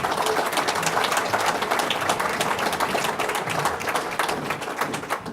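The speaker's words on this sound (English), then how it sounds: "Let's give Bruce Aiken a big round of applause." Dense, steady applause from an audience at a bass fishing tournament event, many hands clapping continuously at close range without letting up.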